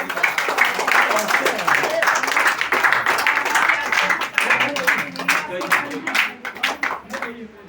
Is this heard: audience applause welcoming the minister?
yes